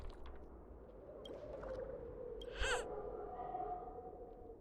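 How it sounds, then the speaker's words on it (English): A bird calls in the video game Honkai Star Rail, a faint hooting, owl-like cry rising briefly midway over a low, steady ambient game hum. "There's a bird."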